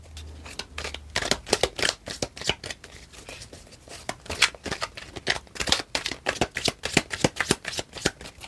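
A big deck of small cards being shuffled by hand in a card reading, with quick riffling bursts and soft flicks in an uneven rhythm, close and crisp with no talking.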